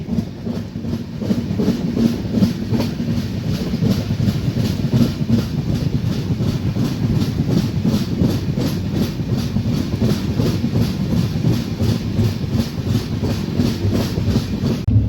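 The Mandovi Express rolls along the Konkan Railway in monsoon, a continuous loud rumble with steady rhythmic clickety-clack of wheels over rail joints, heard from on board with no talking.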